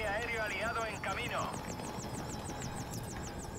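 Helicopter in Call of Duty: Modern Warfare Remastered, a steady rhythmic rotor chop with engine whine that holds throughout, with game voices and effects over the first half.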